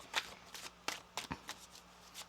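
Oracle cards being shuffled by hand come through as a string of quick, soft, papery riffles and taps, close and quiet, in an irregular rhythm.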